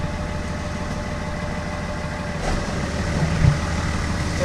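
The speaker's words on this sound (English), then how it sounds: "Run back to the auger tractor and kick on the power takeoff to turn on the auger itself." A farm tractor engine drives a grain auger through its power takeoff during a corn harvest, a steady heavy diesel drone close by with a brief rise in loudness near the end and no talk.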